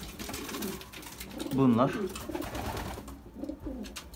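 Racing pigeons coo softly nearby, with one clear throaty coo in the middle and fainter ones around it, while someone speaks briefly over them.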